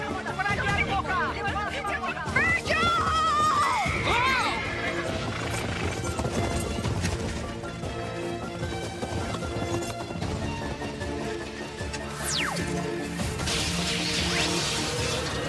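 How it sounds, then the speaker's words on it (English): Hooves clip-clop and a horse whinnies amid a busy, cartoonish mix of music, effects and voices. "Bring my horse back."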